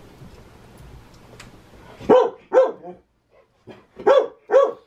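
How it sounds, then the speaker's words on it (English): Dog barking indoors at a visiting grandmother: after quiet, two loud close barks, a short pause with soft yips, then two more sharp barks in quick succession. "Why you keep on barking at Grandma?"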